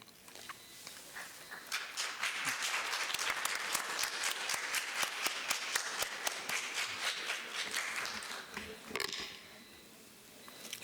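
An audience at the Ministry of Finance's 2023 National Budget Consultations breaks into dense, steady applause, many hands clapping together for several seconds before the clapping thins and fades.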